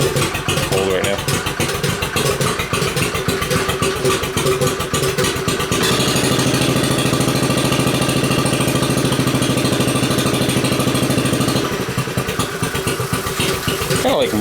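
A cold trike engine idles steadily and loudly up close, a rough, uneven rumble with occasional pops and sputters, running without a break the whole time.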